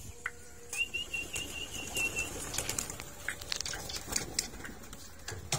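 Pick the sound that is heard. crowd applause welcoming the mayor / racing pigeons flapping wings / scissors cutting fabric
racing pigeons flapping wings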